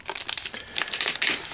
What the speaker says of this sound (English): I'm going to go ahead and take the bag off here